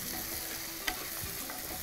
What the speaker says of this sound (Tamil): தக்காளி பழம் ஒரு கை, புழியா மாதிரி போடுப்போம்